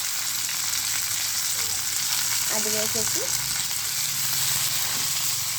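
Dried red chillies sizzle in hot oil for a tempering, a constant loud frying hiss close by, while a voice speaks briefly over it.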